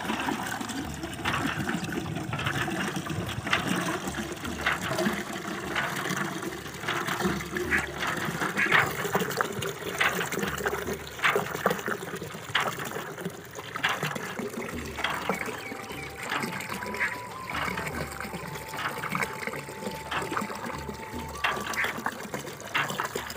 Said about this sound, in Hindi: तो हम पानी भरते हैं नलके से और कमरे को